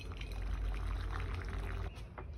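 Boiling water poured into glass jam jars, a steady close pouring rush lasting a couple of seconds with no talk.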